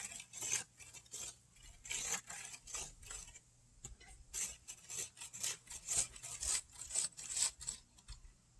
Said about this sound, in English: So a metal rake just right here. And just go rough and just rake all this up.